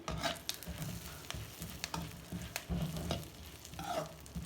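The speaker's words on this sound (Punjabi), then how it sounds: "ਮਗਜ਼ ਨੂੰ ਵੀ ਅਸੀਂ ਥੋੜਾ ਜਿਹਾ ਹਲਕਾ ਜਿਹਾ ਅਸੀਂ ਰੋਸਟ ਕਰ ਲੈਂਦੇ ਆ" Magaz melon seeds roasting in a little ghee, a soft continuous sizzle with intermittent scraping and stirring of the pan, close and moderately quiet, no talking.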